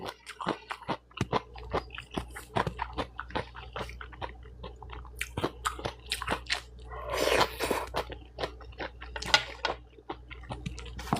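Someone eating microwaved sausage, with loud close biting and crunchy chewing in a rapid irregular rhythm and moist squishy smacks, and no speech.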